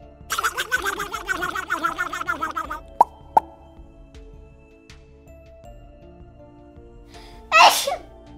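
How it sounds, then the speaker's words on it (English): A sneeze bursts out near the end, sharp and loud after quieter sounds and a couple of small pops; an earlier stretch holds sung or chattering voices. "Mama llama starts to sneeze."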